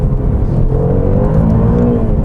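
Maserati Quattroporte GTS, a rear-wheel-drive performance sports sedan, accelerating hard with a deep, loud, continuous engine roar heard from inside the cabin, pitch climbing steadily.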